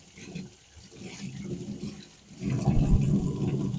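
Running water splashes as aquarium canister filter pads are rinsed, a soft trickle that swells into a louder, steady gush partway through.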